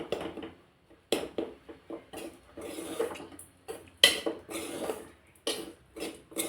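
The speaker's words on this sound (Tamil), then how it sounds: "நல்லா கிளறி விடுங்க." A metal spoon scrapes and clinks against a pan as green chilli idli upma is stirred. The taps and scrapes come in irregular bursts, close and moderately loud, with no talking.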